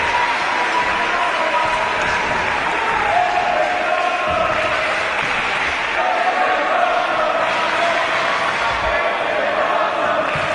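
A large wrestling event crowd roars and cheers continuously at full volume, a dense, close wall of noise that swells in places while a commentator talks excitedly over it.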